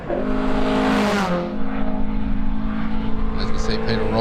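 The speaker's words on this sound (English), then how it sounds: "Peter Rogers now make his way around the hairpin in the 1600 Datsun" A 1600 Datsun race car rounds a hillclimb hairpin, its engine note rising then settling into a steady drone, with a commentator talking over it throughout.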